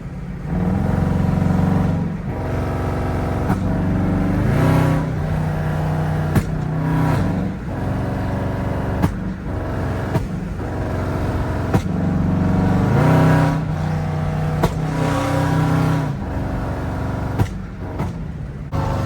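A loud 5.7-liter Jeep V8 engine drones steadily while driving at night, with repeated surges of revving and acceleration rising and falling throughout, close up and continuous.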